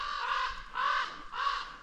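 Crows caw three times in a steady rhythm on a forested mountain loop trail, loud and fairly close, each call harsh and drawn out.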